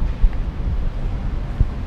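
Strong wind buffets the microphone during a motorcycle ride, a continuous low rumbling rush with a couple of heavier gusts, and no one speaks.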